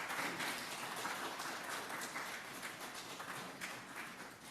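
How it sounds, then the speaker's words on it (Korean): A Korean church congregation applauds in praise at the first Sunday service of the new year, steady massed clapping heard from a distance for several seconds. "우리 하나님께 찬양과 감사의 박수 한번 드렸으면 좋겠습니다."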